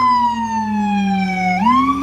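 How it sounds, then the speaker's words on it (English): A loud emergency siren wails nearby on a New York City street, its tone sliding slowly downward and then sweeping back up, with faint traffic rumble underneath. "I'm gonna wait for the sirens. You know New York."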